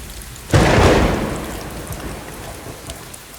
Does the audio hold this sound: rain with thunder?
yes